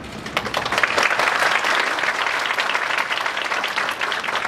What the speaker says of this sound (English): Ladies and gentlemen, please welcome them with a big round of applause